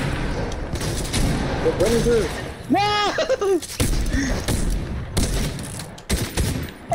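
Desert Eagle shots in a Fortnite gun-game free-for-all: heavy, close gunfire bursts mixed with loud shouting and excited voices throughout.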